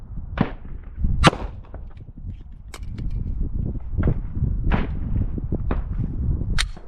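Glock pistol fired live at circle targets on a range, several sharp snapping shots at irregular intervals, close and crisp, over a low rumbling background.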